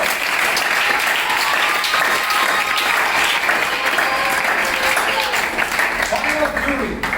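A large audience at a school education event claps steadily and loudly the whole way through, a dense unbroken wash of applause with crowd noise mixed in.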